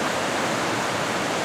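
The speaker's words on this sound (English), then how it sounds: "The water is fed in over the top, and it goes round clockwise basically." Water pours steadily over a small working overshot water wheel at Laxey, a close, dense and unbroken rushing wash with no talk.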